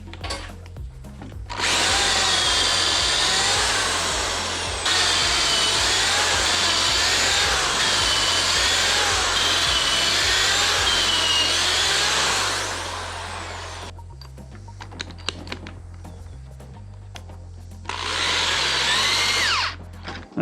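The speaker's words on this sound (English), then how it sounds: "First, I'm gonna drill my pilot holes," Power drill boring six pilot holes into wood for lag bolts holding black iron pipe shelf supports; two long steady whirring runs, loud and close, with a pause of faint handling noise between them and no talking.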